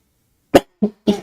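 Three sharp coughs, close and fairly loud, separated by short pauses of silence.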